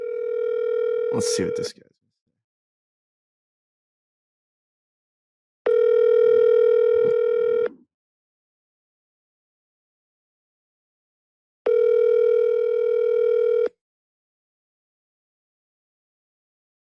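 A telephone call rings out with three long, loud electronic rings separated by even silent gaps, and someone speaks briefly at the start.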